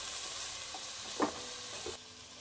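Onions sautéing in oil for sambar, a steady soft sizzle with a few light stirring knocks, close and quiet, ending abruptly.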